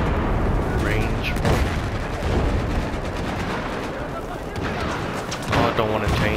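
A player's gun in Battlefield 4 fires steady shots mixed with booming explosions and ongoing battle noise, dense and loud throughout, with a player speaking over it.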